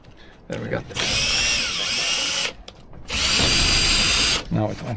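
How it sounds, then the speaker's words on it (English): A power drill fitted with a metal drill bit bores into wood in two loud, close bursts of high whirring, each lasting a couple of seconds with short pauses between them. "It's not drilling that well through wood because this is a metal drill."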